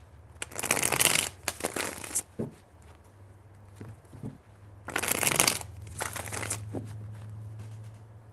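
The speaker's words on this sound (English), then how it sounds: "Three shuffles." Tarot cards being shuffled by hand in two loud bursts of rapid riffling and flicking, each lasting over a second, with quieter card handling between and a low steady hum underneath.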